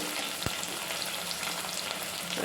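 Carrots and potatoes about to join already fried vegetables in a pan for pasta, a dense steady sizzle of oil with one sharp tap of a utensil early on, close and unbroken.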